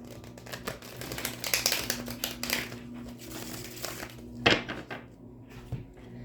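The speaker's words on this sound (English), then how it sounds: "Let me get you some good shuffles in." Dense papery riffling and soft card slaps of a Rider-Waite tarot deck being shuffled in quick bursts, close by, with a sharp snap near the middle and quieter rustles after.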